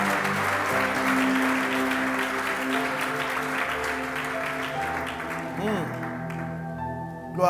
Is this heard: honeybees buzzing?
no